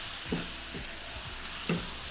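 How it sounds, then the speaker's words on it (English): Sautéed cassava is stirred in a hot pan, with a steady sizzle and two pairs of clear scraping strokes of a utensil against the pan, no talking. "Right, so you have to keep stirring."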